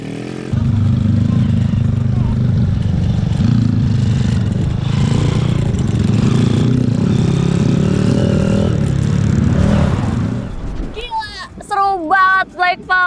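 A motorcycle engine revs and drones steadily for several seconds, rising in pitch, then cuts off as people start talking excitedly, at a weekly dirt-track slide race.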